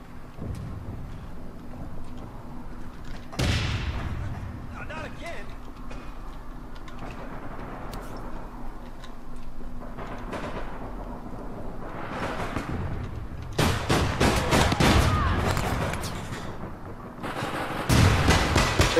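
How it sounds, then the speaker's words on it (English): Gunfire from the online shooter APB Reloaded, bursts of shots crackling over steady game ambience, with a sharp impact near four seconds and dense, louder volleys toward the end. "Somebody's fucking shooting at me."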